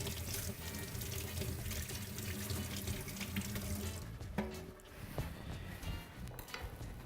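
Cold tap water runs steadily into a kitchen sink as peeled, pre-washed carrots are rinsed before being cut on the bias as aromatic garnish, a continuous close splashing stream that eases and falters in the last few seconds.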